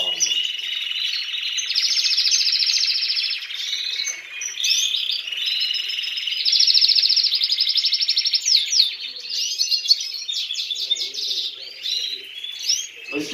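Canaries sing continuously nearby, bright trilling phrases and rapid chirps that rise and fall in loudness, clear and alone without talk.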